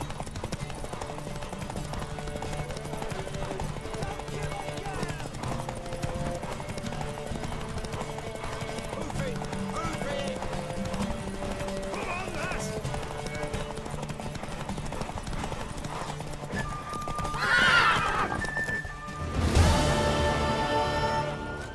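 Horse hooves clip-clopping steadily in The Witcher 3 video game, with a mare's neigh near the end over a soft game music bed and faint voices.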